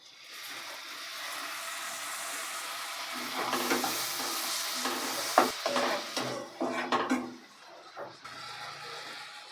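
Strained mustard paste going into hot oil with fried spices, a constant sizzle that swells and crackles as the paste hits, with spoon scrapes and clatters against the pan, no talk.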